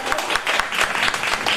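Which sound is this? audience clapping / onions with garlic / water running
audience clapping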